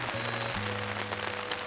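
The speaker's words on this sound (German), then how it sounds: "wenn der Regen so auf das Tarp niederprasselt" Heavy rain pattering steadily on a taut tarp shelter at a wild campsite during a stormy night, a dense continuous hiss with a low hum underneath and no talk.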